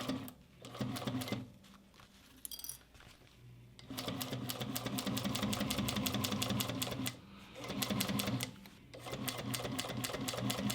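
Rapid mechanical stitching from a sewing machine working on a two-toned leather boxy bag, running in sustained bursts with brief pauses between seams, close and steady.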